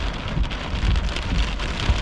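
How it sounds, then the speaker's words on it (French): Heavy rain pours down steadily during a violent storm in Texas on 22 May 2024, a dense, continuous close roar of drops with no pauses and no talking. "c'est pas mal rendu une tache de pluie violente"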